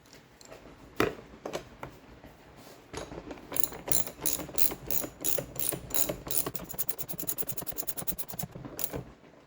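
Rapid ratchet clicking while an axle nut is tightened on a cheap tractor kit being assembled, starting with a few scattered clicks and building into a steady, close run of sharp ticks, with no talk.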